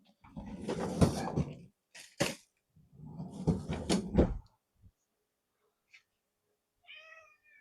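A one-eyed cat indoors in a home kitchen, with clattering and thumping like cupboards or doors opening and closing, then a short meow near the end.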